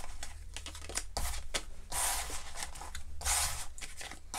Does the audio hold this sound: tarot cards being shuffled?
yes